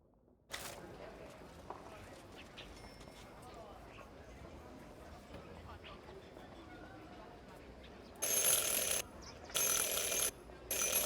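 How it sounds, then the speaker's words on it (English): In the video game Syberia: The World Before, a bright service bell rings three times in quick succession, loud and sharp with short gaps, after a long stretch of quiet background ambience and footsteps. "Ring 3 times for urgent matters."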